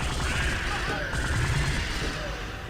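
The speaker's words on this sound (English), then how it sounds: "Tetrion Gatling gun is about as good as it gets on this game" Tetrion Gatling gun in Star Trek Elite Force fires a continuous rapid stream of shots, a dense mechanical rattling burst held steady and loud for the whole short stretch.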